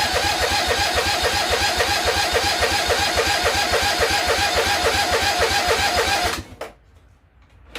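A lawn tractor engine cranks with a loud, close, rhythmic churning from the starter for about six seconds, then cuts off abruptly into near quiet. It is heard alone, with no talk.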